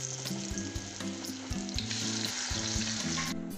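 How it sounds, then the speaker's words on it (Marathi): Taro leaf vadis (alu vadi) frying in hot oil give a steady, close crackling sizzle throughout, with music playing over it. "पद्धतीने बाकीच्या वड्या आपण तळणार आहोत."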